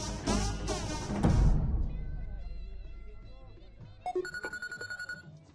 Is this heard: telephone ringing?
yes